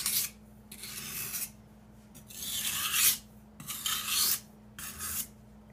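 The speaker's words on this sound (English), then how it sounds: "this is where you're really honing the blade down" A knife blade is honed with light, gentle passes, giving a series of soft, rhythmic rasping strokes, each about a second long with short pauses between, close and fairly quiet.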